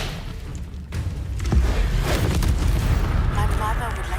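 An Expelliarmus spell cast in the game Hogwarts Legacy sets off a loud booming magical blast that swells and rumbles for several seconds.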